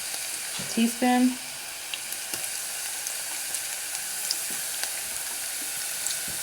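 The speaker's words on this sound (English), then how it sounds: "And we also can go ahead now and add the garlic and the ginger as well." Garlic and ginger sizzle gently in a pan for habesha shiro, a steady close hiss with a short spoken word and a brief tonal beep early on.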